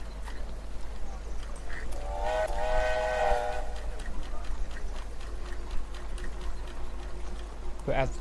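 A train locomotive in the railway video game Railway Empire blows a clear, sustained whistle for about a second and a half over a steady low rumble, with faint clicks and clatter continuing afterward.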